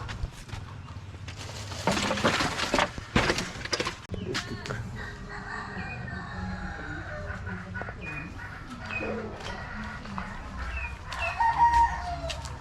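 Chickens cluck and squawk nearby while a rooster crows in the background, over a faint outdoor rumble.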